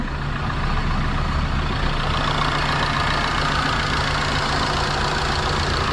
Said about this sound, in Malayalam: വണ്ടി സ്റ്റാർട്ടാണ്, ഒരു കുഴപ്പമില്ല